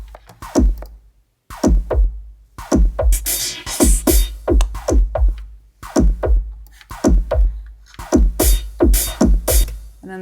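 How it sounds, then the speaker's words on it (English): Hand-cut drum machine percussion run through a filter, a loud busy pattern of choppy hits and hissy noise bursts in repeating bars with brief gaps between phrases, no voices. "other percussion sounds from these machines I also ran through the filter"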